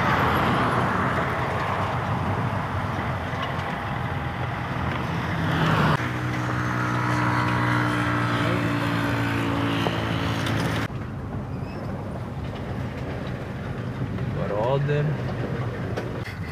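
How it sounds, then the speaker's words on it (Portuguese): A rental car crawls along a rough dirt track near Punta Cana in the Dominican Republic, its engine droning steadily with a rumbling cabin hum, while people talk over it. "Entramos num lugar aqui que nem sabemos se é possível entrar com o carro."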